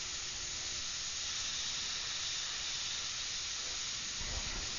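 Continuous airbrush hiss while spray painting the face of a figure, a steady, close, unbroken airy spray that holds for several seconds without talk.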